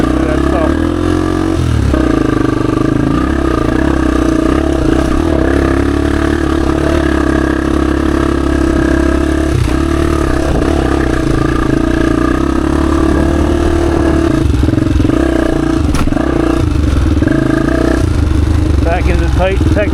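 A Honda XR250 dirt bike engine working through tight technical trail, a loud close continuous mid-pitched drone that rises and falls slightly with throttle, with a rider's voice faintly over it.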